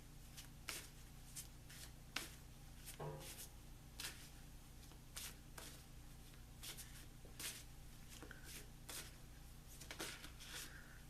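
Shuffling a deck of angel cards makes soft, quiet riffles and slaps spread irregularly over several seconds in a hushed room, with no one speaking.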